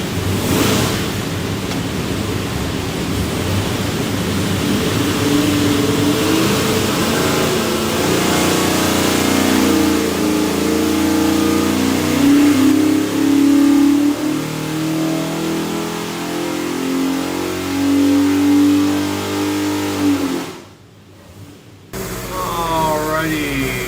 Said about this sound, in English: Go in there and make a run, see what she does.